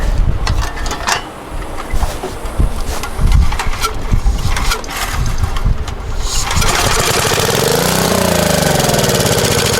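An abandoned Generac generator with a replacement carburetor cranks with uneven mechanical clatter, then catches and runs loudly and steadily for a few seconds, its engine drone filling the rest of the clip.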